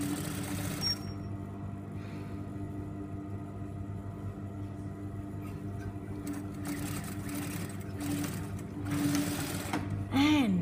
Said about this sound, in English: Fabrics down, 1 centimetre seam allowance.